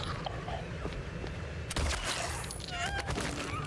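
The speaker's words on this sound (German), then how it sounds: "6 Schuss habe ich da reingedrückt." Rapid bursts of gunfire from the Silent Hill 2 Remake on PS5 crackle in a busy, layered mix with other effects and brief vocal sounds.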